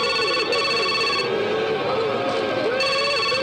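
A telephone rings in repeated electronic bursts with short gaps between them, fairly clear over a busy background.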